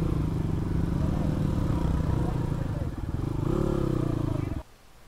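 A motorcycle riding on a rough track toward a large cave, its engine a steady close drone with some rattling, dropping slightly midway and then cutting off near the end, while people talk over it.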